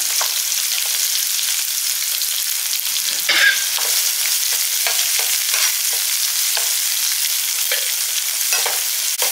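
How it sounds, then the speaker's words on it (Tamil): Two handfuls of cut small shallot onions fry and sizzle steadily in hot oil in a pan, with faint stirring scrapes, a continuous close sizzle with no talk. "இப்போ வெங்காயத்தை வந்து கட் பண்ணி வச்சுருக்கேன், சின்ன வெங்காயம். அது 2 கைப்பிடி அளவு போட்டுக்கலாம்."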